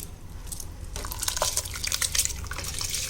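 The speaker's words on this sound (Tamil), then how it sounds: "இதில் வந்து நம்ம இந்த அரிசியை எடுத்து போட்டுடலாம்" Raw rice pours into a pot of boiling water for one-pot rasam rice, giving a sudden rush of pattering, splashing liquid over a steady low bubbling rumble, close and fairly loud.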